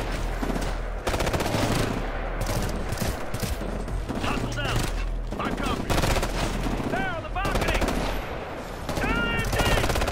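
LMG machine gun fire in the Ghost Recon Future Soldier video game: loud, continuous automatic bursts filling the scene, with voices talking over the shooting.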